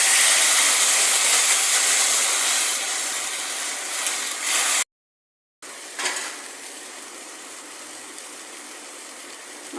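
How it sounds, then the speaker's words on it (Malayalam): Boiling water poured into onions, green chillies and ginger sautéed for upma: a loud, steady hiss of water hitting the hot pan, a short silent gap, then a further softer steaming sizzle. "നല്ല തിളച്ച വെള്ളം ഒഴിച്ച്"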